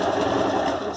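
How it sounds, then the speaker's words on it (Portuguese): A sewing machine runs steadily, stitching fabric for a ladybug costume, a close, continuous fast mechanical whir without pauses. "eu vou levar na máquina de costura"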